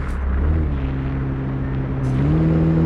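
A Mercedes Sprinter van's engine revs and accelerates in the driving game City Car Driving, a steady close rumble whose pitch climbs gradually, with a brief shift in tone around the middle.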